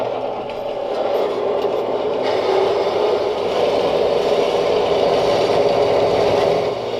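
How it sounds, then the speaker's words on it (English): An old bandsaw cuts through steel stock with a steady, continuous whirring drone that holds at an even level for the whole stretch, with no pauses and no talking. "I'm just using this old bandsaw"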